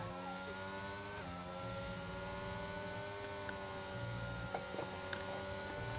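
Formula One race cars lapping the Spain circuit in the F1 22 racing game, a steady high engine whine with rising and falling pitch as gears shift, several cars droning together, loud and continuous with no talking.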